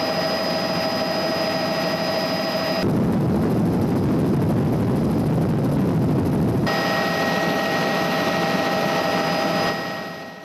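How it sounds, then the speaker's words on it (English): Bell JetRanger helicopter departing down a runway, its steady turbine whine and rotor roar holding loud and constant throughout before easing slightly at the very end. "helicopter jet ranger, Victor Sierra Bravo is departing down runway 29 northbound for Tzoonie"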